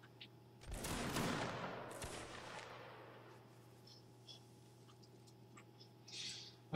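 A volley of muskets fired by Napoleonic reenactors at an outdoor line battle: one loud ragged crash of many shots, then a long fading echo and scattered faint pops.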